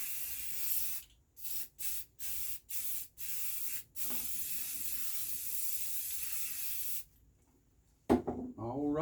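Spray paint hisses onto a TLB part during the fourth coat, in a row of short bursts followed by a long, steady close blast, then a pause and a brief voice at the end.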